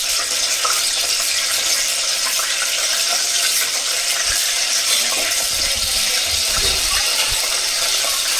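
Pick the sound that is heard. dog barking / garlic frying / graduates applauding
garlic frying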